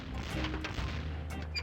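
Gunfire from The Curse of Monkey Island PC adventure game (1997), a short burst of booming shots and crashes in close succession, loud and alone.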